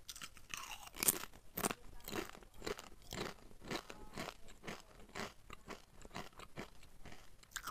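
Crispy salty chips resembling opak crunch between the teeth in close, quiet bites, a rapid series of sharp crackling snaps and chewing with no talking.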